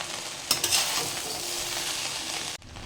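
Egg fried rice with oyster sauce being stirred in a pan, a steady close sizzle with a few scraping spatula strokes near the start, cut off abruptly near the end.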